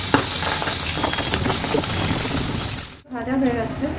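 Pabda fish, coated in gram flour, sizzles loudly in hot oil in a kadai, a dense steady frying hiss that breaks off briefly near the end, with a voice talking over it.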